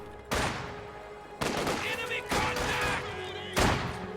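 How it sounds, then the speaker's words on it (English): MG42 machine gun fire in a World War II strategy game, several loud bursts of rapid automatic fire with heavy booming impacts, separated by short pauses amid battle noise. "MG42 has repositioned and suppresses that squad."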